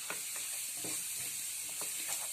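Chilli powder and turmeric masala fry in a pan while being stirred, a faint, soft sizzle with quiet, regular scraping strokes, and no voices.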